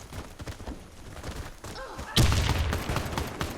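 Gunshots ring out in a multiplayer tactical shooter match with a bomb objective, a loud burst of fire arriving mid-clip after quieter background shots, with voice chat talk running underneath.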